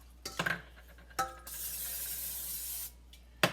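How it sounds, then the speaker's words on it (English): A short hiss of aerosol spray lasting over a second, between clicks and clatter of a can and pan, with no talking. "I'm going to spray this pan with some cooking spray."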